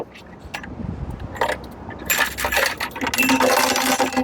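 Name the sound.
Jeep Grand Cherokee tail light bulb rattling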